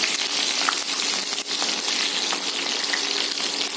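Egg fries in hot oil, giving a loud, continuous sizzle and crackle while it is stirred in the pan, close and steady with no voices.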